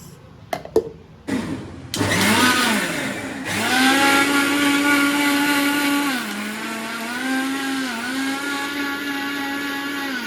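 Electric blender grinding a milk mixture for pudding, a few short knocks and bursts first, then a loud steady whine that shifts pitch slightly as it runs continuously.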